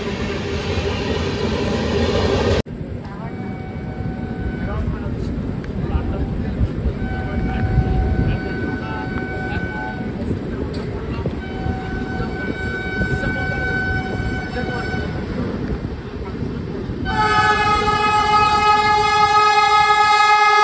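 Howrah–Indore Shipra Express (22912) running near Itarsi Junction, its rumble and wheel clatter steady throughout, with long horn tones sounding in the middle and a loud, bright horn blast closing the stretch.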